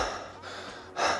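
Someone demonstrates breathing through the nose and mouth at the same time as a running breathing technique: two close, airy breaths, the second one stronger, with no speech.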